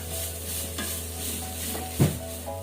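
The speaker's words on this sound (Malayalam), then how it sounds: "ചിക്കൻ ഇട്ട് കൊടുത്ത് ഒരു 5 മിനിറ്റ് ഒന്ന് ഇളക്കി കൊടുക്കാം" Crushed cooked chicken being stirred through a hot pan for a bread chicken roll filling, with a steady background sizzle, soft scraping strokes and one sharper clink near the end, no talking.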